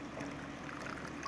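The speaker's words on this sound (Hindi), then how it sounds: "ये आप लेंगे दर्जतुल अव्वल देसी शराब जो कि अव्वल दर्जे की हो, ये हम डालेंगे यहाँ पे" First-grade country liquor pours into a preparation with a steady, close liquid rush and gurgle, brief and unbroken, with no talk over it.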